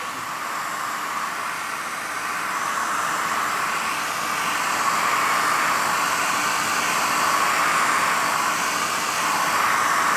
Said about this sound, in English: So standard hairdryer, apply heat.